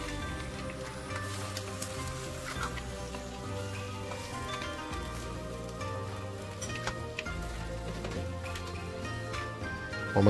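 Slipper lobsters with ginger and onion steam and sizzle in a wok after a splash of cooking wine and stock, a steady dense crackle with faint ticks under a low background hum.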